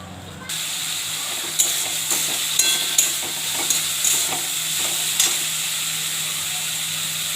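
Tomatoes stir-fried in a pan with spices and a splash of water for a Bengali chachari, giving a steady, loud sizzle with occasional scraping stir strokes and no talk.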